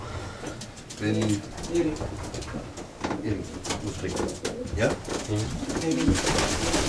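Racing pigeons coo in a loft with low, repeated throaty calls throughout, close and fairly loud, while people talk over them.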